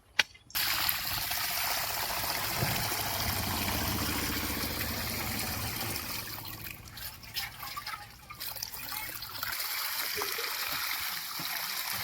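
Water is poured onto cucumber plants in a village vegetable plot, making a steady, close rushing and splashing stream that lasts nearly the whole stretch before easing off briefly near the end.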